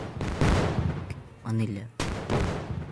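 Gunshots ring out in the mobile game Indian Bike Driving 3D, a few sharp bursts with a pause between them, and a voice talks briefly in the gap.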